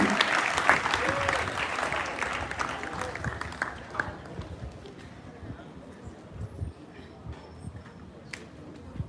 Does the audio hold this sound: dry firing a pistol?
no